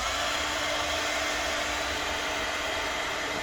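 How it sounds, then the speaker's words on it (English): A hair dryer blows steadily on wet decoupage, a continuous close whooshing hiss with a low motor hum that holds at one level throughout, with no speech. "I'm going to hit it with the dryer a bit."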